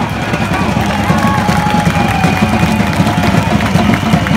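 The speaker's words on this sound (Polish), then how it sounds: "Brawa! Brawa dla Przewodza Turnała!" Protest crowd in a Polish demonstration against logging in Białowieża Forest, cheering and applauding steadily in a dense, continuous roar with overlapping voices throughout.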